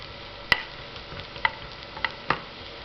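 Cauliflower for gobi manchurian fries in a pan under a soft, even sizzle, with four sharp spoon taps and scrapes as it is stirred, fairly quiet overall.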